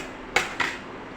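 A lid set onto a pot of jackfruit seed and drumstick avial makes two quick metallic clinks in close succession, close and fairly quiet.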